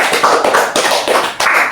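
Small group of schoolchildren in a classroom counseling session clapping hands together, close and loud, in uneven bursts with brief gaps between.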